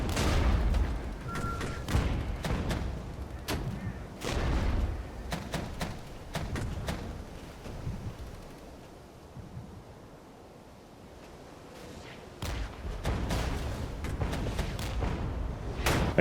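Distant mortar artillery fire in the Regiments video game, a scattered series of sharp, thudding impacts and crackling bursts over a windy, rumbling battlefield background.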